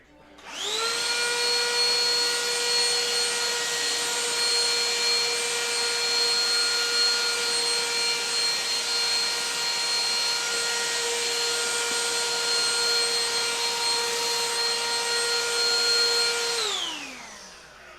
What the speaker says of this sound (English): Time for more vacuuming.